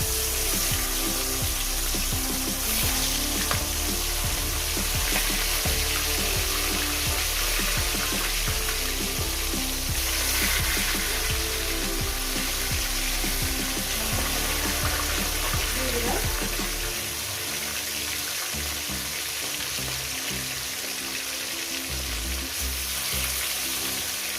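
Fish pieces laid one by one into hot oil for a Bhola fish and taro curry, giving a steady, loud crackling sizzle throughout that eases slightly near the end.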